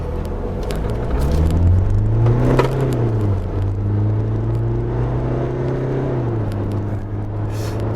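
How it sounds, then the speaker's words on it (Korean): A SsangYong Korando Sports 2.2 diesel pickup accelerates hard, its engine droning loudly and rising in pitch, then settling into a steady strained roar after a gear change. "네, 급가속을 한번 해보겠습니다."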